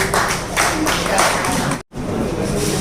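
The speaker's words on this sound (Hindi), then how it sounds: "तालियों से इस्तकबाल" A mushaira audience applauds to welcome the poet Rustam Allahabadi to the stage, a sustained wash of many clapping hands that cuts off abruptly near the end, then resumes faintly.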